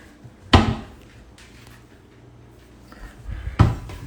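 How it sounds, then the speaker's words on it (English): Kitchen drawers are opened and closed, giving two sharp wooden knocks about three seconds apart with quiet rustling in between and no speech. "You're opening all of the drawers."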